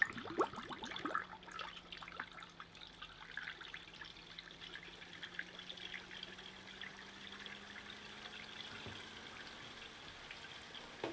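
Soft trickling and gurgling water with scattered bubbles as coolant is pulled through a PC water cooling loop into a SilverStone Tundra TD02-RGB radiator, steady and faint under a low pump hum.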